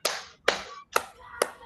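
Four sharp, evenly spaced hand claps from a group doing a focus clapping pattern during a school leadership training session, each clap a crisp slap with short gaps between.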